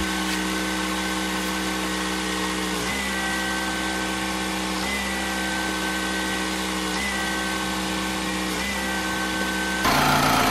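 Honda Civic engine idling steadily with the front wheels raised, its note dipping briefly every couple of seconds as the steering is swung lock to lock on a fresh power steering pump, then a brief louder hiss at the end.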